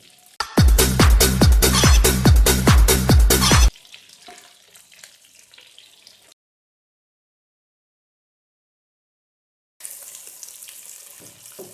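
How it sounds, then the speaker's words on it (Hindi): Half a kilo of chicken fries in butter and oil over low heat, giving a loud, rapid crackling sizzle for a few seconds that then fades into quiet, with faint kitchen noise returning near the end. "हल्की आंच पर 5 मिनट तक मैंने चिकन को इस तरह से फ्राई किया है।"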